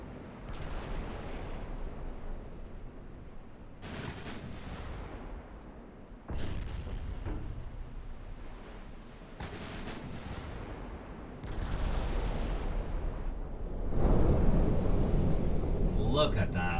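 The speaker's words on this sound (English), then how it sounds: "I think one more salvo, then the last turret will fire as well." Naval gun salvos boom out in the Ultimate Admiral Dreadnoughts warship game, several heavy broadband blasts spaced a few seconds apart over a steady sea-like rumble, with a voice talking between shots.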